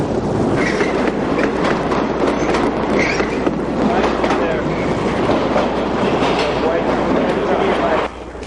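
A New York City subway train rushes past at close range, a loud continuous rumble with clattering wheels and faint squeals, then the noise drops away at the end.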